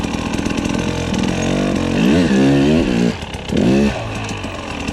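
A 2022 Sherco 300 SE two-stroke dirt bike ridden over rocky terrain, the engine buzzing loud and close with repeated revving surges that rise and fall, briefly dropping off before snapping back.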